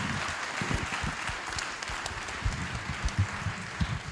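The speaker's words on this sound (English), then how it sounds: "Let's give a round of applause to our panel." An audience at an economic summit applauds a panel, a dense burst of many hands clapping together, loud and close, with no speech over it.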